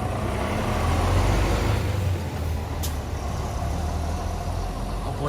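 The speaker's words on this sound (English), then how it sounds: "There's the city bus" A full city bus passes along a sunny street in Okayama, Japan, its engine a steady loud rumble with a brief hiss partway through, over constant traffic noise and no talking.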